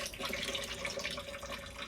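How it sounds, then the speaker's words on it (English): Filtered drinking water from a 65-litre dedicated tank runs from the tap of a 2025 JB Scorpion Sting Air caravan, a soft, steady stream that stays faint and even for the full stretch. "So that water there is filtered. So that's coming from the 65 litre dedicated drinking water tank."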